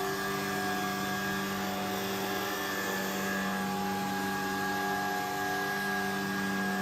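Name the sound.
Shark Vertex cordless vacuum cleaner running under furniture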